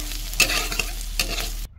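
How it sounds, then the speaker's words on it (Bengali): Fish sizzling in a hot pan, a steady hiss broken by a few sharp stirring or flipping clatters, then abrupt silence. "এবার একটা মাছ ভাজা করে নিচ্ছি।"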